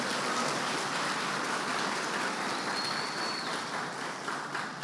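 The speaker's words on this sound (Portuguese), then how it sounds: "dá uma grande salva de palmas para Jesus" A church congregation applauding: a dense, even wash of many hands clapping at a moderate distance, sustained without a break, with no voices standing out above it.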